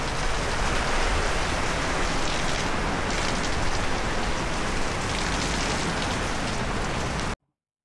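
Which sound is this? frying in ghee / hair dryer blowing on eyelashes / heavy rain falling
heavy rain falling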